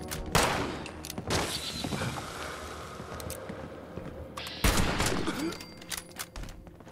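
Rapid bursts of video game gunfire crackle during Fallout VATS combat, with a dense volley at the start and another sharp burst midway, loud against a noisy game background.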